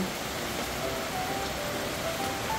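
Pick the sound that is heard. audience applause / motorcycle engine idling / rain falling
rain falling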